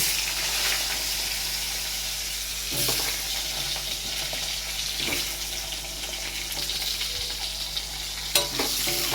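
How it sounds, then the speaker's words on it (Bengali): Onion and pointed gourd frying in oil with nigella seeds, a continuous close sizzle broken by scraping and stirring of the pan and an occasional clank, no talking. "তো পেঁয়াজ দিয়ে দিলাম, একেবারেই ভাজা ভাজা করে নেব।"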